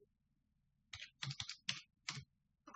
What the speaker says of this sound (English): Let us type in the following